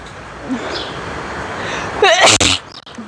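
A single sharp sneeze bursts out close and loud after a quiet stretch of street background, followed by a brief breathy trailing sound.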